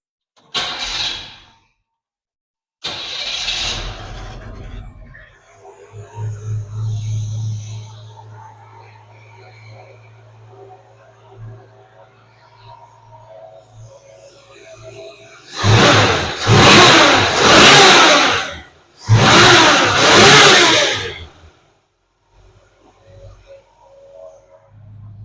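A 1970 GMC C2500 pickup truck engine cranks, catches and settles to a low rumbling idle, then gets blipped with two loud, sharp revving bursts before dropping back to idle, close by.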